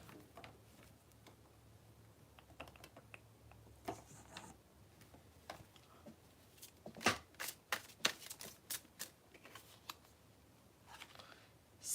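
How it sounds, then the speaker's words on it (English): Soft, close riffling and tapping of tarot cards being shuffled, irregular flicks and snaps scattered over a quiet room with no talk. "Let me pull some more cards."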